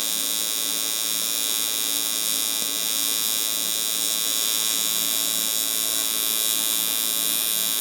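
A steady, loud electric buzz from an Everlast 250EX TIG welder running on an aluminum bar holds unbroken and even throughout, close and alone without speech.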